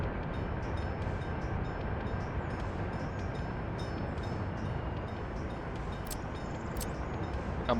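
A construction material train rolls along double-tracked rail in a MegaCity city-building game, a steady continuous rumble of wheels and cars with a couple of brief high squeals near the end, no talking.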